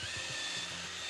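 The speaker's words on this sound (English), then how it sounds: "we're going to pre-drill right into the middle piece" A power drill whines steadily at high speed as it pre-drills into a wooden board for a woodworking project, a short continuous burst heard up close.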